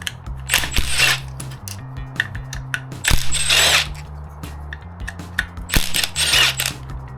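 Power tool undoing bolts on a Nissan Qashqai e-POWER hybrid generator unit: repeated short whirring bursts of a drill or impact driver, close and fairly loud, separated by brief pauses and clicks.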